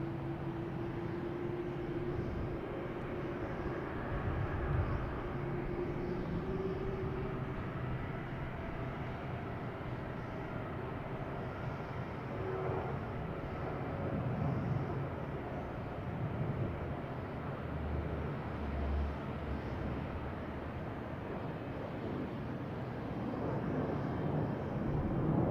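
A United Airlines Boeing 737-800 at Boston Logan gives off a steady, moderately distant jet roar that hums and swells slightly for the whole stretch, with no voices over it.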